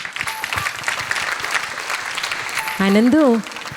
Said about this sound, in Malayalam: അതിന് അവർക്ക് എല്ലാവർക്കും ഒരു വലിയ ക്ലാപ്പ് കൊടുക്കണം.